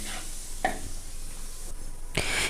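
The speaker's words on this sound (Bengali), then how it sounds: "সেই তেলের মধ্যে আমি একটু ফোড়ন দিয়ে দেবো একটু শুকনো লঙ্কা একটু গোটা জিরে ফোড়ন দিয়ে দেবো" Dried red chillies and whole cumin seeds sizzle in hot oil while a fish curry is being made, giving a steady, soft crackle with a couple of brief louder spits and clatters.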